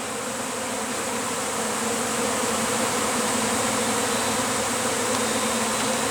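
A honey bee swarm pours out of a hive box, making a dense, continuous buzzing hum that stays loud and close and builds slightly throughout.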